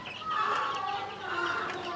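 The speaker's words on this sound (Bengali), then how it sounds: "এই যে আমার ফার্মি দেশি মুরগি" Farm-bred and native chickens clucking together in a poultry shed, a steady overlapping chorus of close, fairly loud clucks with no talking.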